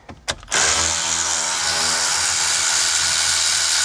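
A power tool with a 7mm socket spins out the mounting bolts of a Ford car radio, starting after a couple of clicks and then running as a loud, steady whir until the end, without talk.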